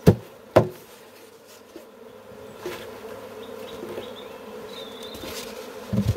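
A steady, low insect hum from a honeybee swarm being bumped into a box drones throughout, with a couple of sharp knocks at the start and faint higher buzzing passing overhead.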